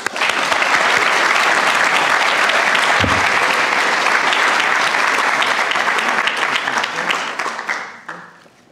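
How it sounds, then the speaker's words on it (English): Sustained, dense clapping from an audience at a diploma award ceremony for a graduating candidate, loud and continuous before fading out over the final seconds. "So give Yunqing an applause."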